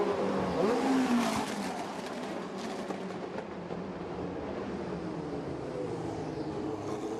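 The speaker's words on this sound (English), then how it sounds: "Cars wind their way through the little dogleg chicane at 4, 5 and 6, and then turn right up Mikhail Fusanov Street." GT race cars threading the dogleg chicane of the Baku street circuit during 2013 FIA GT qualifying, a loud engine roar with shifting pitch at first that settles into a steady, slightly more distant drone.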